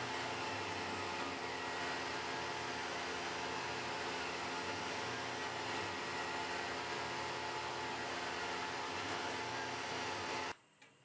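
A VM6545 portal milling machine runs in a continuous, loud, steady mechanical drone with a tonal hum, holding at the same level until it stops abruptly near the end.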